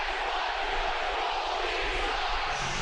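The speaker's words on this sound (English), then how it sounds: "Crowd's into it now." Hockey crowd at a Fort Wayne Komets playoff game against Toledo, a broad steady roar of cheering from the arena stands, even and loud throughout with no distinct voices standing out.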